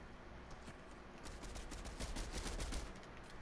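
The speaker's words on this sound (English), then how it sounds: "Oh, and gunfire." Faint, distant gunfire rattles in the video game Fortnite, with rapid bursts starting after a quiet second and growing slightly stronger toward the end.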